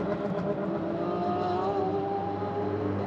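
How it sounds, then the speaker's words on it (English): Race car engines rumble past on the Sepang circuit in Malaysia, including a Porsche 997 GT3 R, as a continuous loud drone with shifting engine pitch. "some of the engine sounds that are rumbling past me, it sounds like the Millennium Falcon from Star Wars"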